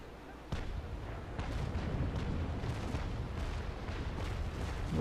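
Broadside cannon fire from a 44-gun warship in the Naval Action sailing battle game, a sudden heavy boom followed by sustained rumbling, overlapping blasts that roll on loudly to the end.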